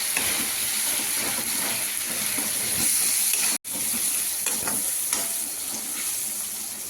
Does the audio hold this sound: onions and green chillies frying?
yes